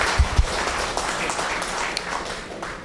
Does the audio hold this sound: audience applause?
yes